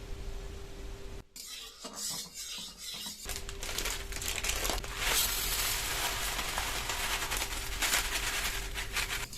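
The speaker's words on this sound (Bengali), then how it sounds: "সিমাইটা লো ফ্লেমে লাল করে ভেজে নেব।" Vermicelli frying in ghee in a wok over low flame, a dense rustling crackle that starts patchy and becomes a steady, fairly quiet sizzle under a faint constant hum.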